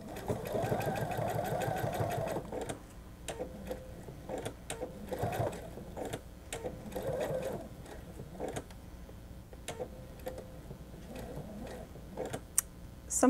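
A sewing machine runs in a steady mechanical burst while stitching the seams of a plush frog, then stops and gives way to shorter, intermittent stitching runs and clicks, close and fairly quiet, with no talking.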